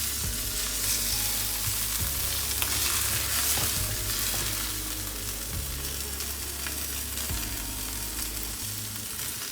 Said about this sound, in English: So we're just going to turn this and sear all the sides